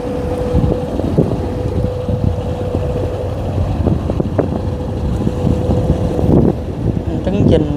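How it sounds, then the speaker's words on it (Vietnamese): A seagoing ship returns from sea into harbor, its engine droning low and steady amid wind buffeting the microphone, while someone talks over it in Vietnamese. "chiếc tàu biển ngoài biển chạy về nè."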